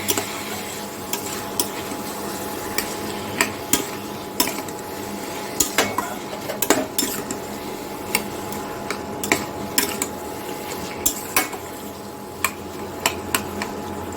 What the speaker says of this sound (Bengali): এবার আমি ভালো করে কচুর শাকটাকে নাড়িয়ে লঙ্কা, নুন, হলুদ মিশিয়ে নেব।